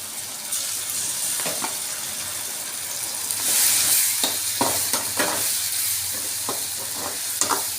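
Ground masala for mushroom curry sizzles and fries steadily in a hot pan, with repeated scraping strokes of a spoon stirring it throughout, close and fairly loud, no voices.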